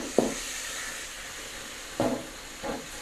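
Banana blossom being stir-fried in a pan without coconut milk gives off a steady close sizzling hiss, broken by a few short scraping bursts as the pieces are tossed and turned.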